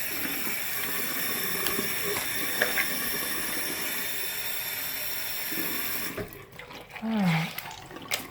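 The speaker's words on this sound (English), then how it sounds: "Just run some water in here to rinse things out." Water runs from a bathroom sink tap during cleaning, a steady hiss that lasts several seconds. It stops abruptly, followed by handling noises and a short, faint voice.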